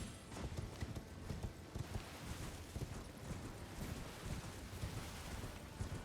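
Horse hooves clip-clop steadily in Elden Ring: Shadow of the Erdtree, a quick repeating rhythm of soft thuds set against a constant rain-like wash of ambient noise, moderately quiet and with no voices.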